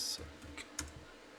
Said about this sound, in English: let me type something in